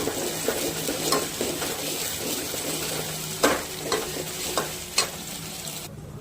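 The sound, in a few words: onion-tomato paste sautéing in pan with coconut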